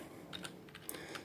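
Rapid typing on a computer keyboard, a short run of light, close key clicks in an uneven rhythm with no voices.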